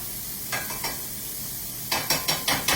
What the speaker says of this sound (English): So I'm going to give this a bit of a swirl around. I'm going to give that a simmer.